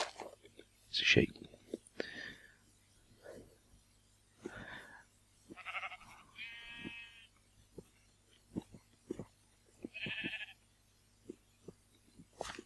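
Several Minecraft sheep bleats come at intervals, mid-distance and fairly quiet, among light clicking footsteps and small game noises.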